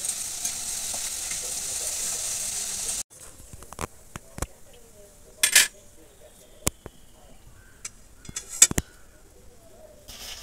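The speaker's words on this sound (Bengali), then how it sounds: "দেখুন বন্ধুরা শব্দটা শুনতে পাচ্ছেন কত ভালো একদম পুরো মজমজে হয়েছে" Crispy homemade fried potato chips rattle and crunch in short dry bursts after a steady opening hiss of frying oil, close and fairly clear with a few louder clattering spikes.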